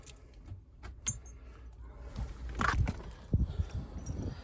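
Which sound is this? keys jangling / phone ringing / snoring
keys jangling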